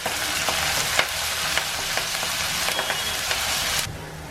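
Garlic, ginger and curry leaves sizzle in hot oil for a grape pickle, a loud, dense crackling fry with stirring clicks that eases off abruptly near the end.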